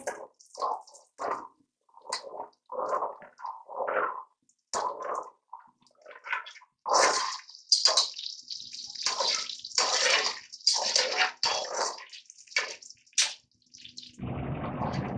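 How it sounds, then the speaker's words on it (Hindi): About one medium-sized chopped onion sizzles and crackles as it fries in a pan for rice pulao, a steady hiss with bursts of spattering that grows louder in the second half, with no talking. "ये मेरे पास तकरीबन 1 प्याज कटी हुई है, दरमियाने साइज की। इसे फ्राई कर लेंगे।"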